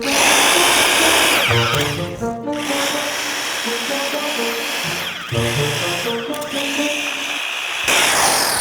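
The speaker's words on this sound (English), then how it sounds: "We've got a plug-in drill from Craftsman that we just tested for you guys" An old corded Craftsman electric drill runs loud and steady, its high motor whine dipping and surging briefly a few times as it works.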